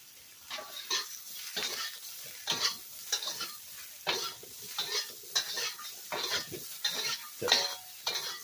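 Cooked beef and homegrown eggplant stir-fry in a pan, with a regular rhythm of spatula scrapes and clanks over a faint sizzle, each stroke distinct and close.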